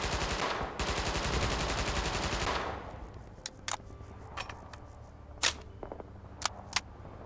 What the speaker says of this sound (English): The PPS, and I know I said it right this time, it has had its weapon sounds changed.